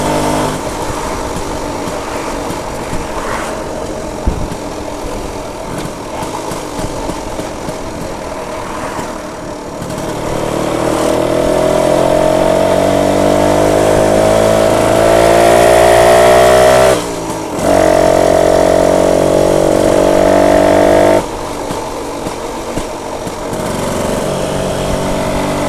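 A BSA Bantam 175 motorcycle engine runs loud and close while riding on a bumpy road, the two-stroke note climbing steadily as it revs up, dipping briefly, then settling back.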